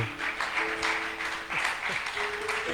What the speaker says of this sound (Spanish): Dale ese aplauso al Señor, hombre